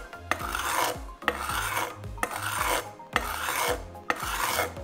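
A Fujiwara Maboroshi 165mm santoku knife scrapes across a sharpening stone in steady, close, rasping strokes, about one per second, each ending in a sharp tick, with no talk.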